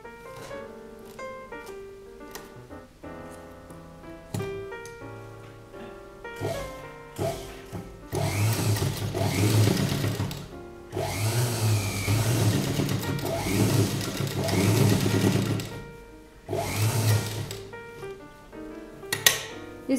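A sewing machine stitches a boat neck kurta, running in short clicking bursts that give way to longer, louder whirring runs, with brief stops between seams.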